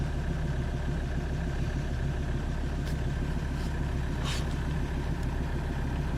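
A small portable air compressor inflating the tire of a Hiboy P6 electric bike, giving a steady, close, buzzing motor drone with a rapid pulsing rhythm that runs unbroken throughout.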